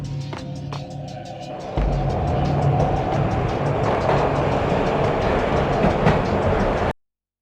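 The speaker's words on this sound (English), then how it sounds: "This was my second train ride of the night." Train ride in the video game Max Payne on PS2: a rumbling railcar with rhythmic clickety-clack that swells louder partway through, rolling steadily before cutting off abruptly.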